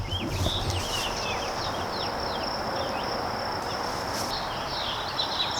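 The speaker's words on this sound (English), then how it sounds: "Hear all those birds?" Birds chirp and twitter outdoors amid a dense, steady bed of insect or cricket buzzing; the calls come in short bursts at moderate distance with no speech.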